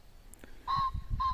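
Birds call at night beside a riverside fishing camp, two short honking calls close together, each a clear nasal tone, with faint chirps and low background rumble in between.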